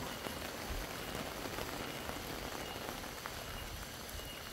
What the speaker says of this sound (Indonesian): Hujannya non-stop.